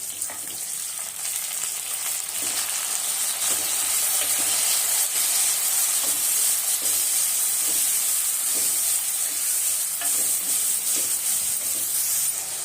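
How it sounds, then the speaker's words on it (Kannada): Chopped tomatoes hitting a pan of frying onions for sambar, producing a steady loud sizzle and hiss that continues alone throughout. "ಆ ಟೈಮಲ್ಲಿ ಕಟ್ ಮಾಡಿಟ್ಕೊಂಡಿರುವಂಥ ಟೊಮೊಟೊ ಹಾಕ್ತಾಯಿದ್ದೀನಿ"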